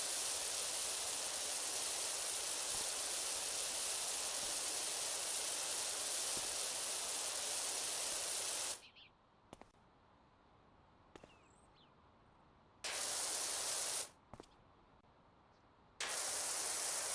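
A pressure washer in PowerWash Simulator sprays with a loud, steady hiss for several seconds, then cuts out and comes back in short bursts between quiet gaps.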